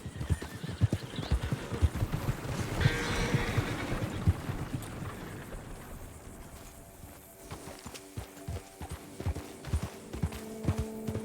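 Horse hooves clip-clop in the Red Dead Redemption video game, a steady close rhythm of hoofbeats with a whinny partway through, then more hoof thuds and faint background hum.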